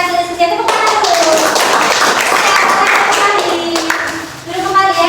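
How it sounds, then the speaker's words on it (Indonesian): A classroom of children claps hands together in a sustained, brisk burst, with some kids' voices mixed in, loud and close throughout and tapering slightly near the end. "Tepuk tangan dulu."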